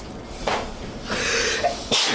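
A person sneezes during a tabletop fantasy game session, with several sharp, bursting sneezes spread across a couple of seconds at close range and no talk over them.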